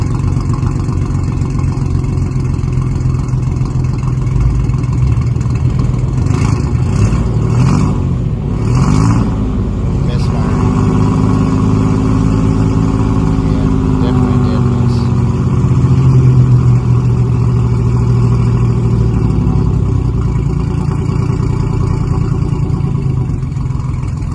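A 1994 GMC Jimmy 4x4 engine running, a loud steady idle with a rumbling, slightly uneven tone and a few brief revs rising and settling, with no talk.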